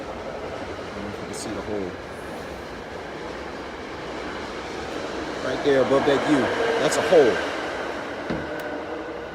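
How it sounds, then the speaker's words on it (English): A train passes by outdoors with rumbling wheels and rhythmic clickety-clack that swell louder midway, heard under someone talking near a smoker grill. "Let the train go by."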